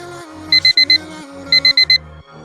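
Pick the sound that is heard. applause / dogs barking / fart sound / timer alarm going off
timer alarm going off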